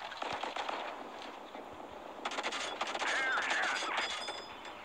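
Tank gunfire in World of Tanks, a rapid series of sharp cracking shots and bursts over constant game noise and engine rumble, with brief tonal effects near the end.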